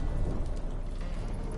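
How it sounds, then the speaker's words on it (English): A thunderstorm at sea in a video game: steady heavy rain and a deep rolling rumble of thunder wash over everything, continuous and full, with no break. "Didn't bargain for no storm."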